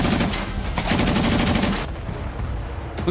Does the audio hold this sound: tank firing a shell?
yes